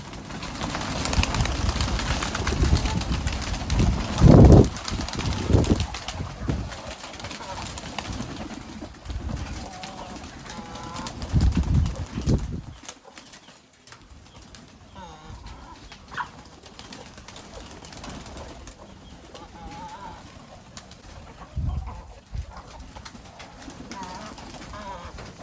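Pigeons in a backyard coop give low, throaty coos and occasional bursts of wing flapping during cleaning, with a busier, louder first half and a quieter stretch later, as people talk nearby.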